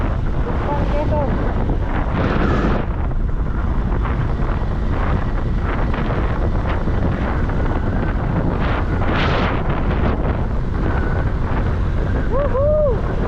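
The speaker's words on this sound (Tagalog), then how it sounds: "Ang lakas ng hangin." Strong, constant wind roaring across the microphone for the whole stretch in Lukban, Quezon, Philippines, loud and heavy, with faint voices and brief whistling tones partly buried underneath.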